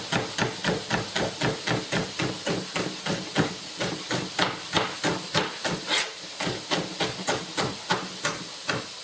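A knife quickly chopping a celery stalk on a board, a fast, even run of sharp close knocks about three per second, loud and alone.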